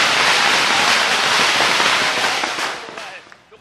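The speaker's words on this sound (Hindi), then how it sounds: "पटाखे यहाँ फोड़े जा रहे हैं, पटाखे की आवाज सुनिए" Firecrackers bursting at a street celebration, a loud dense continuous crackle of rapid pops filling the whole stretch and thinning out toward the end.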